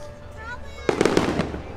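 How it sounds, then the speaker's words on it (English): Fireworks at Epcot burst in a quick series of booming pops, starting suddenly partway through and echoing across the park, with crowd murmur and voices underneath. "With the monorail going by, with the fireworks in the background."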